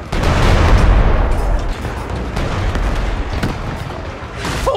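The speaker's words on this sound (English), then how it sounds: "Aim the cannons!" Heavy, continuous booming barrage of cannon fire in Shadow Tactics: Blades of the Shogun, with overlapping blasts and crackles, loud and near, easing slightly toward the end.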